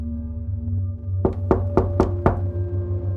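Five sharp knocks on a motel room door, evenly spaced and fairly close, rising over a steady low hum.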